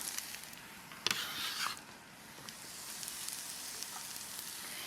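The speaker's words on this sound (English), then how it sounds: "I brown the mushrooms by themselves" Mushrooms browning alone in olive oil in a pan, giving a steady soft sizzle with a few crackling pops, close and fairly quiet, with no talking.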